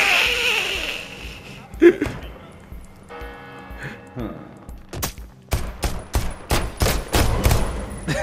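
Gunfire in the video game Deceit 2: a couple of scattered shots early on, then a loud run of rapid, closely spaced bursts in the last few seconds, with players talking over it.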